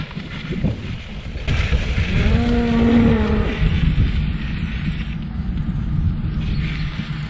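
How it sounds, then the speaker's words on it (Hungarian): Hungry cattle low near a Drava river embankment cycle path, one long drawn-out moo rising in the middle against wind noise and a rumbling background, with fainter calls continuing afterward. "Szegény tehenek bőgnek, éhesek már nagyon biztosan."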